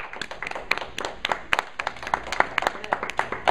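Children at a kids' drama camp clap for each other after a show, a sparse, uneven patter of individual claps with distinct sharp hits, fairly quiet and with no talk over it.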